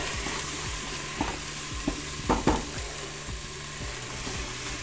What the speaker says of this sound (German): Und jetzt dünnt sich das Ganze, brate ich das Ganze gut so 10 Minuten an.